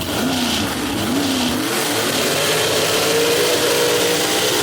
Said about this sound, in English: We got ourselves a drag race right here, folks.